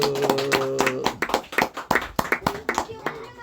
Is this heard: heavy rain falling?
no